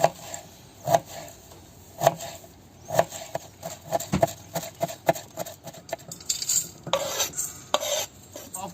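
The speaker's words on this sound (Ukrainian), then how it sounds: "порізати укропчик" Dill being chopped with a knife on a board while marinated mushrooms are prepared, giving a series of irregular close taps and knocks with some clatter of kitchenware and no talking.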